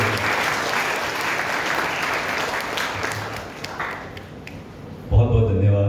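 Applause from the audience at a felicitation ceremony for meritorious HSSC 2022 exam students, a dense steady wash of many hands clapping for about five seconds, then fading out as a voice begins speaking.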